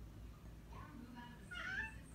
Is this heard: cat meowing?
yes